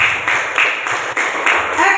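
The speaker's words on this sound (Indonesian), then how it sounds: "tepuk tangan dulu untuk kita semua." A class of students clapping their hands together in a steady rhythmic pattern inside a classroom, the claps fairly loud and close, with a voice speaking over them.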